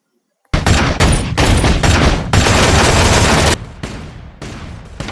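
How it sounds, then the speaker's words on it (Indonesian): Rapid film gunfire aimed at a gate: sudden, very loud sustained bursts of automatic shots that start abruptly after a brief silence, then continue in slightly quieter volleys toward the end. "Zhang masih berada di sana, belum melakukan pergerakan apapun selain menembak pagar tersebut."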